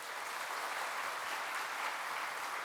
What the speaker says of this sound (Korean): 우리 두 분 우리 박수로 환영하겠습니다